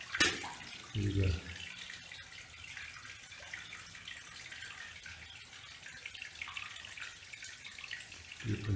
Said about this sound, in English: Dripping through the ceiling.